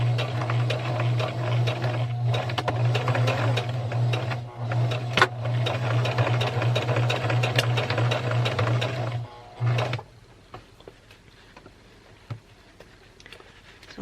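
Sewing machine stitching fabric for a scarecrow gnome, a fast steady mechanical whirr with rapid needle ticking, close and continuous for about ten seconds, then stopping and leaving a few quiet handling clicks.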